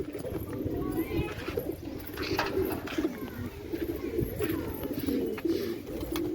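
Soft, low cooing of a white pigeon repeats steadily in the background, with occasional chirps and some faint talking.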